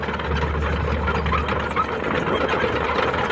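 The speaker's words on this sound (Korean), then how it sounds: "엔진 소리 한번 들어보세요." The diesel engine of a 12-year-old 02-class excavator runs steadily at idle, a constant low rumble with a faint rhythmic knock, fairly close.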